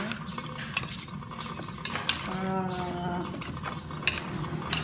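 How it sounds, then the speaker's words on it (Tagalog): A utensil stirs a steamed pumpkin mixture dressed with olive oil and dried fish in a pot, giving scraping and clinking sounds with sharp metallic taps, close and moderately loud. "So, haluin lang natin siya."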